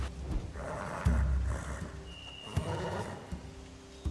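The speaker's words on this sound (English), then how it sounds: "Scare the horses, too." Horses neighing and whinnying in short bursts in The Walking Dead video game, with a few hoof clops and thuds in between, moderately close.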